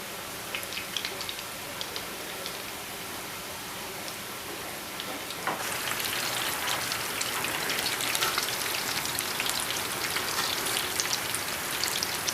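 Hmong egg rolls fry in oil with a steady hissing crackle that swells noticeably louder and denser partway through, a close continuous sizzle full of small pops and no voices.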